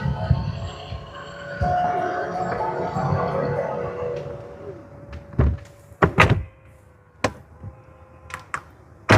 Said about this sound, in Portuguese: O charme aqui da porta do estilo gaivota